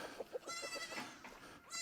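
Goats being let in to their feeders bleat at close range, with several overlapping wavering calls over a low busy background.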